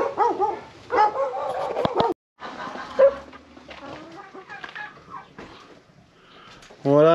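Chickens and a small rooster, including ornamental birds, in and around a backyard chicken coop, giving clucks and calls with a crow-like cry near the end, mixed with other noises.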